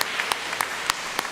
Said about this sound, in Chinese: 咱拍手者